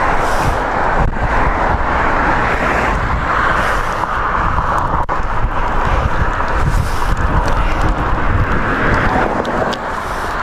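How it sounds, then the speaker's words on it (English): Strong wind roars steadily over a road cyclist's microphone, a loud continuous buffeting rush that fills the whole span without letting up. "Wow, wow, wow, wind."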